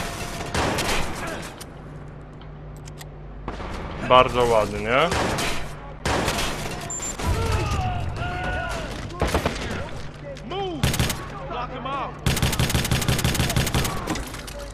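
Bursts of rapid gunfire in the video game Watch Dogs, loud and close, alternating with synthetic effects and brief pauses; someone speaks briefly.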